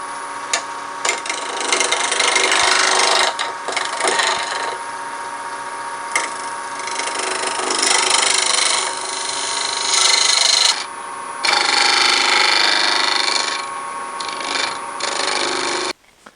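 A lathe cutting into a cast resin base, a loud continuous scraping, rasping whine that surges and drops in level as the tool bites and eases, with brief pauses between passes.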